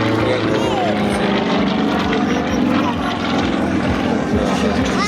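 A loud, steady drone of a propeller aircraft engine at the 2012 Gryzliny air show runs throughout, close and continuous with a low throbbing rhythm.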